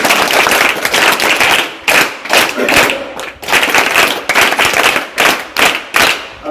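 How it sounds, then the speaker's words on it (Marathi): Audience clapping at a school tree-planting and pen-distribution ceremony, loud bursts of applause in several waves with brief dips between them, close and dense. "त्याला सुद्धा आपण टाळ्या वाजवून धन्यवाद देऊया."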